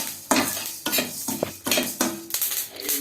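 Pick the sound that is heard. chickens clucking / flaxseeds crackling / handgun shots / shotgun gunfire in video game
flaxseeds crackling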